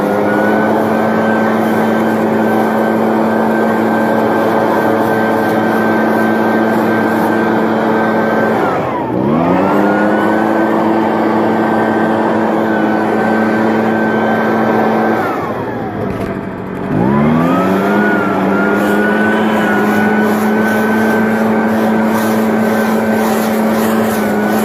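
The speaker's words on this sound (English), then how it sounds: "I've almost done breaking this blower in now." An Echo leaf blower, nearly broken in, runs loud and close with a steady high engine whine, twice dipping briefly as the throttle drops before surging back to full speed.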